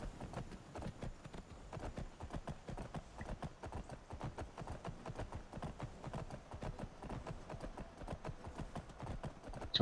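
Horse hooves clip-clop steadily in Skyrim Special Edition, a fast, even run of quiet strikes continuing without pause for about ten seconds.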